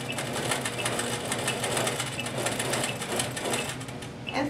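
Sewing machine stippling a quilt appliqué, a close, steady rapid needle clatter running continuously with small rhythmic ticks and no talking.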